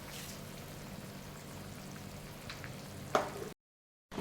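Mango pieces and jaggery boiling in water in a pan for pachadi: a quiet, steady bubbling simmer with a faint sizzle and one brief clink near the end.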